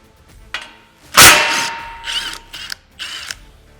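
A ratchet works a bolt loose on a CFMoto UForce 1000 front bumper: a few sharp metallic clicks, then a loud clattering burst and three short ratcheting runs, close and clear.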